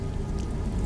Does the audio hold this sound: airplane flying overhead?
no